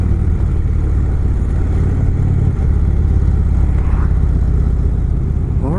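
An Indian Springfield motorcycle cruises down a highway on Route 9 in upstate New York, its engine giving a steady, close, loud drone with continuous wind rush and a brief shift in pitch partway through.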